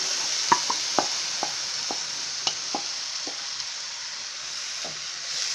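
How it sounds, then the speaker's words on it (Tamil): Grated apple frying in hot ghee in a pan, a low steady sizzle broken by a series of light spoon taps and scrapes that thin out toward the end. "இப்போ நம்ம துருவி வச்ச ஆப்பிளை வந்து சேர்த்துக்கலாம்."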